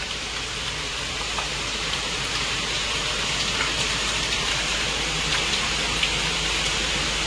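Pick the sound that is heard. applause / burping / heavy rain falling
heavy rain falling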